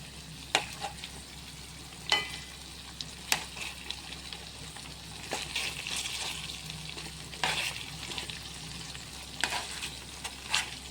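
White brinjal pieces fry in hot oil with a steady, soft sizzle. Every second or two a utensil knocks against the pan as the pieces are stirred.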